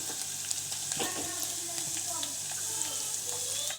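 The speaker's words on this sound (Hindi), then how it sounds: "अब इसमें जाएगी हरी मिर्चें जो कि मैंने 4 से 5 कट कर ली थी" Chopped green chillies sizzle steadily in hot oil in a pan, with a constant bright hiss and occasional soft scrapes and taps from stirring.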